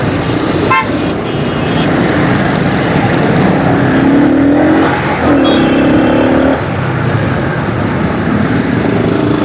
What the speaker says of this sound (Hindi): ट्रैफिक भी परेशान करता है